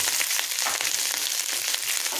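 Cooked rice with a little sugar and salt fries in hot fat in a pan, giving a steady, close, bright crackling sizzle with small irregular pops and no talking.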